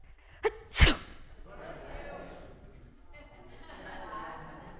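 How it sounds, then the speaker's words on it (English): A single sharp, exaggerated sneeze, loud and close, preceded by a quick intake of breath, followed by quiet murmuring voices in the background. "That was a fake sneeze"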